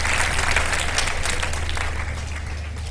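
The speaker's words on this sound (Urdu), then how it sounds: "جنید جمشید صاحب کے لیے دعاؤں کی صورت میں تالیاں بجا دیجیے جی." Loud, dense studio audience applause on a televised Ramadan sehri show, a steady wash of many hands clapping that fades slightly toward the end.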